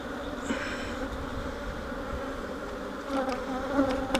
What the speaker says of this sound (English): There's a bunch of bees.